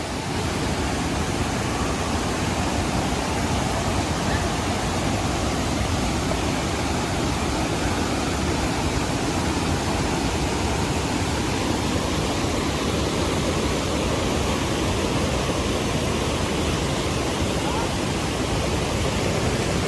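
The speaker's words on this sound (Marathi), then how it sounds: "पाण्याचा आवाज पण बघा कसा मस्त येतोय" A steady, powerful roar of rushing water pours on without pause, like a large waterfall close by, in the Konkan region.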